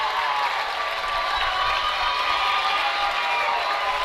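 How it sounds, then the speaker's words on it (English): A crowd at a high school baseball regional semifinal roars in a steady, dense wash of cheering and shouting that holds level for the whole stretch, with no single voice standing out. "the crowd noise is now getting louder and louder"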